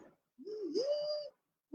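A person's voice imitates an owl hooting for preschool children, a single drawn-out rising and wavering hoo, close and clear, framed by brief silence.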